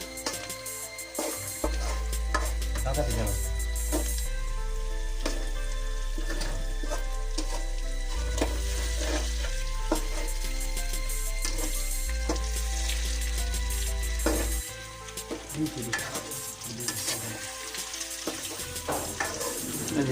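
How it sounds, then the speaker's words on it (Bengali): Fish fries in a wok with a loud, continuous crackling sizzle, with occasional scraping as the pieces are stirred and turned. "যে এখন আমরা মাছ দিয়ে দিচ্ছি কড়াইয়ের মধ্যে।"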